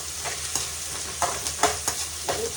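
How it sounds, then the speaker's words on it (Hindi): Chopped onions fry in a pan for a jackfruit curry, with a constant sizzle broken by several sharp scraping stirs of a spoon at irregular intervals; no one speaks. "ये प्याज ब्राउन सी हो जाएगी जब तक इसे चलाते रहो।"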